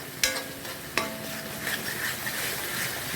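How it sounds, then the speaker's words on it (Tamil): Ground mint paste with salt fries in oil for mint rice. A utensil scrapes and clinks against the pan twice near the start over a constant soft sizzle. "நல்லா வதங்கிட்டு வருது புதினா நல்லா வதங்கிடுச்சு"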